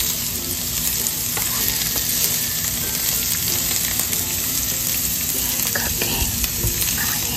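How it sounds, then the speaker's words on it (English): Onions sizzle steadily in a hot pan while being stirred, a dense close frying hiss with scraping stir sounds throughout, no talking, for a Korean-Mexican bulgogi burrito dish. "Cooking onions."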